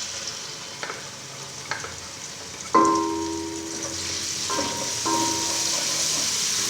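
Ginger-garlic paste hits lightly cooked onions in a pan for a vegetable curry of potatoes, peas and carrots, raising a steady close sizzle, with a few clinks and scrapes of a spoon stirring against the pan.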